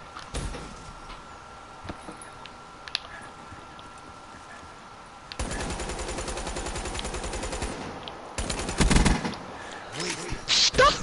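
Gunfire in Call of Duty Black Ops 3: bursts of rapid automatic fire, dense and loud, cut in over a quieter game soundscape with a few isolated sharp shots.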